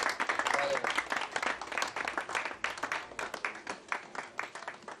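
Audience applause greeting the presidential couples at a Congolese ceremony, a dense, lively patter of many hands that starts strong and gradually thins toward the end.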